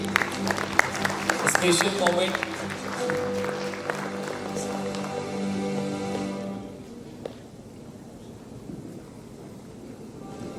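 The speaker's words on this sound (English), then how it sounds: "Let's have a clap, everybody." Applause at an environmental award ceremony as a team is invited onto the stage, clapping mixed with talk and background noise that thins out into a softer, windy hush toward the end.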